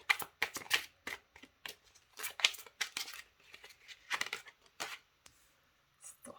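Tarot cards being shuffled in a quick series of crisp riffling bursts, close up, with brief pauses between shuffles and no talking.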